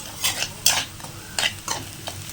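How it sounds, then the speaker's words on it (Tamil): Onions sautéing over a low flame while being stirred in a pan for goat brain podimas, with a soft sizzle broken by five or six brisk, scraping stir strokes, close and alone. "நல்லா வணக்குங்க வெங்காயத்தை"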